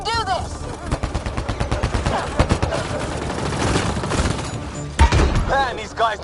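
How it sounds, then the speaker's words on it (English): Sustained gunfire from a sci-fi shooter game, Mass Effect Andromeda, with dense rapid bursts, heavy thumping impacts and an explosion-like hit near the end, while voices shout throughout the firefight. "Just keep firing, we can do this!"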